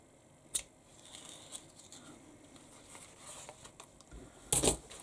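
Scissors snip through folded fabric for a sewn bag: a few sharp, isolated cuts, one early and a louder double snip near the end, with quiet handling rustle between.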